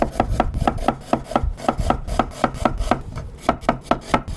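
Knife chopping through a yellow onion into thin slices on a cutting board, a steady run of crisp, close, evenly spaced cuts with no talk.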